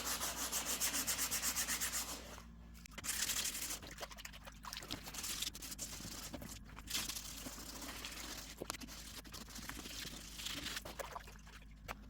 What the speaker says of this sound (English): after sanding for a bit and taking off whatever wanted to come off